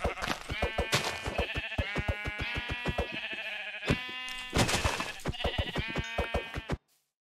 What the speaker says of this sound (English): Wait, are those friendly? Can I pet them? Yeah, it's a sheep.